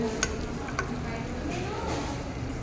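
Chicken curry fries in a hostel pan, a soft steady sizzle with a few clinks of a utensil against the pan, close and moderate in level.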